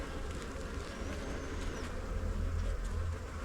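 Honeybees in an open hive during an inspection, with drones among them, make a dense, steady buzz. The hum is close and continuous throughout and swells slightly toward the end, with no talking.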